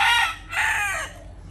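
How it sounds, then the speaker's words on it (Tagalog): A rooster kept around cockfighting folk crows loudly and close by, one long call followed by a second crow, with no talking over it. "Dahil manok ni paring Miller"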